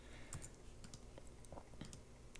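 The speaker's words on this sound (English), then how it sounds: "I'm going to press number 2 on the keyboard" Computer keyboard keys tapped in a quick irregular series of crisp clicks, close and fairly quiet, with no voices.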